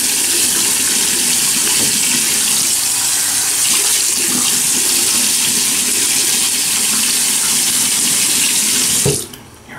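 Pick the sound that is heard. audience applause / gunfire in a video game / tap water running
tap water running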